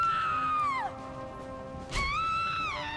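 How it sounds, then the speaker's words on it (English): Extremely high-pitched scream in Halo 3, two shrill wailing cries with sliding pitch, the first falling away and the second rising then sustaining, loud and close with little else around them. "Extremely high-pitched scream."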